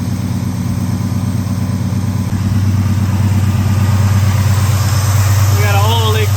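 The engine of an old project truck with a leaking oil line idles steadily in a low, even rumble throughout, loud and close, with a voice briefly heard near the end.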